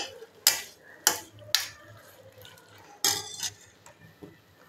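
A spoon scrapes and knocks against a cooking pot while ground paste is mixed into wedding-style sambar, several sharp metallic clinks spaced irregularly over a quiet background.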